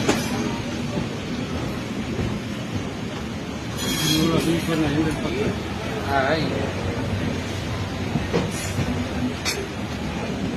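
A train rumbles at Rajkot railway station with loud rolling noise and occasional metallic squeals, while people talk nearby over the clamor.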